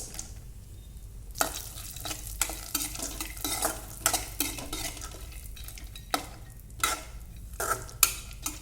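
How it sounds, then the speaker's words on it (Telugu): Cashew pieces roasting in ghee in a pan, a low steady sizzle broken by repeated scraping stirs and spoon knocks against the metal, close and fairly quiet, with no talking. "ఇప్పుడు మళ్ళీ 1 స్పూన్ గీ యాడ్ చేసి జీడిపప్పు పలుకులను వేయించుకోవాలి"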